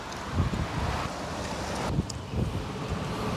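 Strong wind gusts over a golf course near the water, a continuous roaring rush buffeting the microphone with low thumps, steady and loud throughout.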